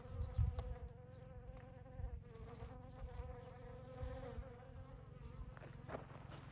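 Steady insect buzzing of bees around snapdragons in a garden, a continuous droning hum close by with slight swells, no voices.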